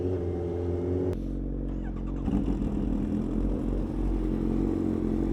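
A supercharged Kawasaki Ninja H2R motorcycle engine running with a jet-like whine and rasp, loud and close, idling then rising in a rev with clattery mechanical texture and no talking.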